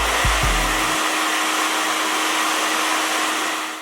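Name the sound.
blow dryer attached to soft hood dryer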